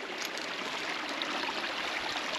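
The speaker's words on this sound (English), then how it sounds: "let's go down to the stream" A small outdoor stream in Scotland flowing with a soft, steady rush and light trickling, faint and continuous with no voices.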